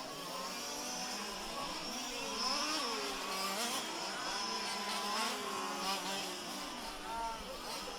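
A race car passes the driver's stand at a road course during an STC championship race, its engine note rising and falling as it goes by, with a commentator talking continuously over the sound.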